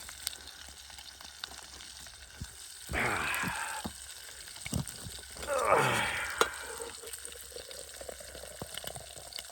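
Bacon frying in a pan over a winter campfire hisses quietly and steadily, broken by two louder sizzling surges a few seconds apart.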